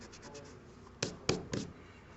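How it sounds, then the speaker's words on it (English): A pencil redraws an edge on paper for a perspective drawing of a three-dimensional letter T, with soft scratchy rubbing followed by three quick, close strokes. "I'm going to redraw this edge because it's looking a little light."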